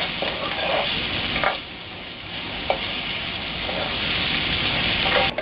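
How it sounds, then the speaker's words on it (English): Onions fry in a pan for kanda poha, giving a close, steady sizzle broken by a few brief scrapes and clacks as they are stirred. "add onion. Let it cook till onions are transparent."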